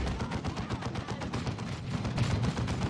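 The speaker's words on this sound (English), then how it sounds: "And that is the Cyclone missile launcher you see going in." A Cyclone missile launcher and lascannons fire during a Space Marines versus Orks battle in Dawn of War 2, with dense, continuous rapid blasts and explosions throughout.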